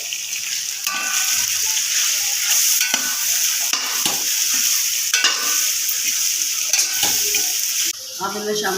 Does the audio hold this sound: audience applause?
no